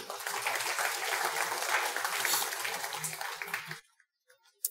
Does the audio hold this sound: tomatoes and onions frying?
no